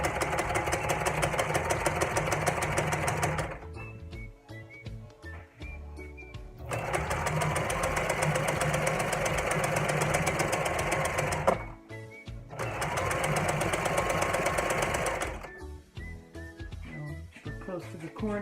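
A sewing machine runs in fast, steady bursts while stitching along the edge of a placemat, with pauses between runs where a voice talks quietly and small handling clicks are heard.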